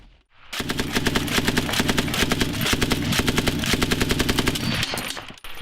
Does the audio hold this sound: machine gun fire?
yes